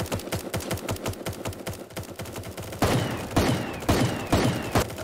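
Rapid pistol fire in the Super Animal Royale video game, a dense run of sharp, evenly spaced shots that then gives way to louder, heavier bursts with ringing tails.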